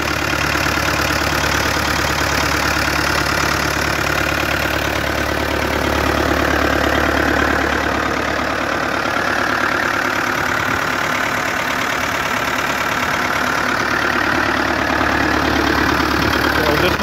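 A Ford 5000 diesel tractor engine idles steadily nearby, a constant low rumbling hum with a faint knock, running unchanged throughout with no talk.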